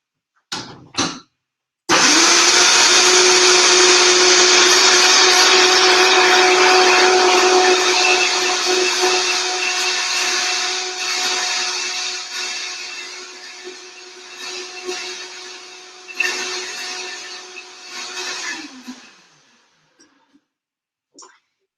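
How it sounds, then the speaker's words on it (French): A blender purées squash soup made with water and coconut milk, starting abruptly after a couple of brief knocks and running loud and steady for about seventeen seconds, its pitch wavering slightly before it winds down and stops. "Donc ça, je vais le mixer."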